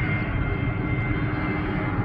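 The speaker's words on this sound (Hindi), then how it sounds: "मित्रों आप देख रहे होंगे ये हवाई जहाज उड़ान लेते हुए" A fixed-wing airplane climbs out from nearby Jaipur airport over open farmland, a continuous broad, rumbling engine roar that stays fairly loud and steady throughout without any talk.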